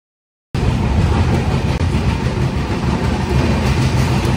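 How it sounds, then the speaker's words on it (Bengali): Samleshwari Express pulling out of Howrah station, a steady loud rumble of rolling rail cars with faint rhythmic clatter, continuous after a brief silent start. "হাওড়া স্টেশনের 19 নম্বর প্ল্যাটফর্ম থেকে রওনা হলো সমলেশ্বরী এক্সপ্রেস"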